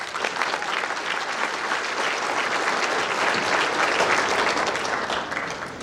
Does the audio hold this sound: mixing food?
no